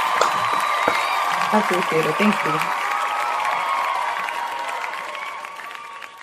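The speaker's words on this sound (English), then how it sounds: "Where's my applause?" Audience applause and cheering rise from a crowd in a steady, close wash that slowly fades, with someone speaking briefly over it early on.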